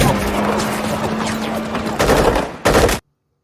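Rapid gunfire bursts from soldiers in a civil-war film scene, loud and dense fusillade with a sharper second volley near the end before an abrupt cut to silence.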